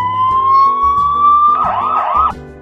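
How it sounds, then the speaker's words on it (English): O-KAM security camera siren going off: a loud, close electronic wail rising steadily in pitch, then breaking into a fast warbling yelp before cutting out, with a pulsing tone underneath. "The camera siren goes off,"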